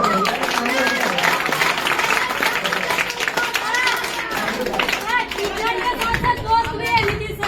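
An audience claps and cheers at a Republic Day school event in Nawada, with dense, steady applause mixed with chatter and crowd noise filling the whole stretch.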